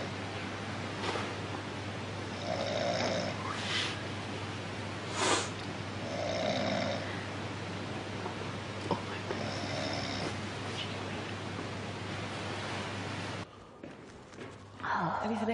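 A person snores nearby, with slow breaths rising and falling about every three to four seconds over a low constant hum, followed by a few quieter shuffling sounds near the end.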